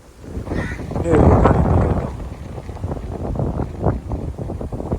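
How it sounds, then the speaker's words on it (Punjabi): Strong wind gusts buffet the microphone in low, rumbling surges outdoors, loudest in an early swell and then continuing in uneven bursts. "ਅੱਜ ਬਹੁਤ ਜਿਆਦੇ ਹਵਾ ਚੱਲ ਪਈ"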